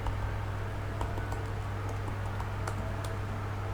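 Computer keyboard typing while re-entering data into a PHP CRUD form, a steady stream of close, light key clicks over faint background hum, no talking.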